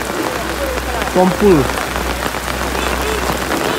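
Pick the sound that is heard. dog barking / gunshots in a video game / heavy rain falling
heavy rain falling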